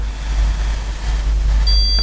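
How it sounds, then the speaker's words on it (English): A handheld stud finder slides along a drywall wall above a window, then gives off a steady, high electronic beep near the end over a constant low hum. "you take your stud finder, you put it above like this, and you just move it until it starts to beep"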